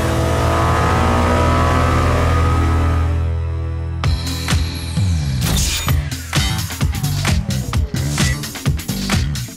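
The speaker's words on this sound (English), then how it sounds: "Suzuki's V-twin engine create a unique heartbeat-like sound and linear power delivery" A Suzuki SV650 V-twin motorcycle engine idles with a steady throb, then revs in a series of sharp, loud throttle blips.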